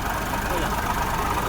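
A car engine idles with a steady, dense mechanical hum and some knocking, close and continuous, during a check of engine and belt noise.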